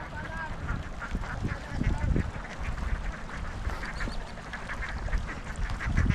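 A large flock of young ducks being herded in the open, a dense, continuous chorus of overlapping quacks close by, with a faint voice now and then underneath.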